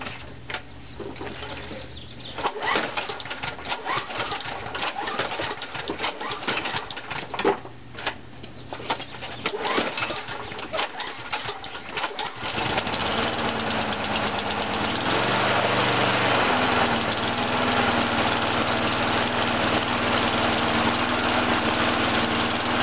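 A small lawn mower engine runs roughly just after a cold start, its uneven, knocking idle loud and close, steadying into a fuller continuous drone in the second half.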